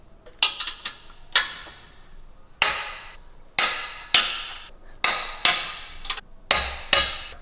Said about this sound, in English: Now we're gonna go ahead and just torque them all to 80 foot-pounds.